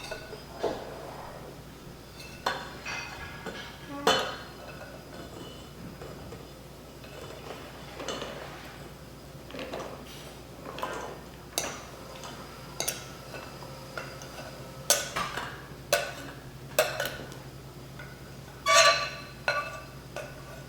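Nuts, flour and salt for a holiday loaf are mixed in a bowl, giving quiet, irregular ticking and scraping clicks of a utensil against the bowl, repeated every second or two over a low steady background hum, with no talking.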